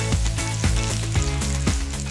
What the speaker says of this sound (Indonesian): Ada pisang tanduk yang digoreng tanpa tepung dan cukup sekitar 10 detik aja sudah bisa diangkat